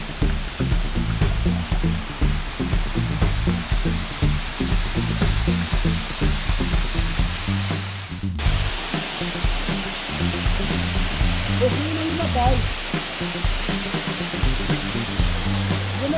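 Simarudan Udan waterfall, water pouring from between rocks: a loud, steady, close roar of rushing water continues throughout with little change.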